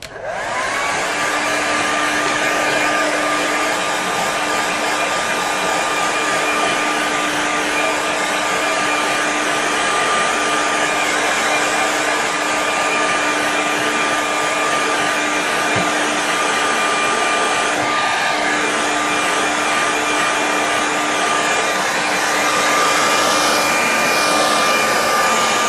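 A hair dryer blows steadily over a watercolour landscape painting to dry it, a loud, close whooshing hum with a constant high whine that runs without pause for over twenty seconds.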